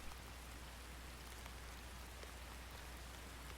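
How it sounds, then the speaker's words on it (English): Steady rain falls in the ARK Extinction video game, a dense even hiss of drops with a low hum beneath, unbroken and without speech. "these rain effects are a lot more nicer than the old ones"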